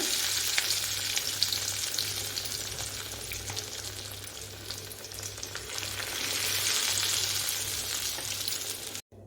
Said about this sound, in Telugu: ఇప్పుడు మళ్ళీ సేమ్ ప్రాసెస్లో మిగిలినవన్నీ అలా ఫ్రై చేసేసుకోవటమే